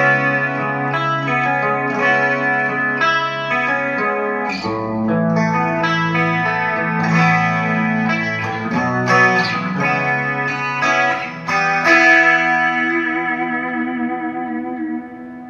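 Electric guitar chords and notes ring out through an Axe-Fx Ultra with a shimmering, doubled chorus effect and a roomy chamber reverb tail, played continuously for several bars.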